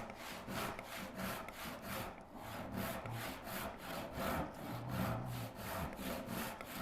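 A hand saw rips steadily through wood while building a Moxon vise, with even back-and-forth strokes in a continuous rasping rhythm, close and moderately loud, with no talk.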